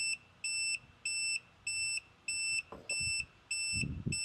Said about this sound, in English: The motor keeps beeping.